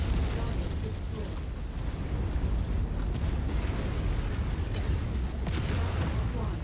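Explosions of destroyed targets in the mech combat game MechWarrior 5, a dense, loud rumbling roar of blasts and booming impacts sustained throughout with brief brighter bursts.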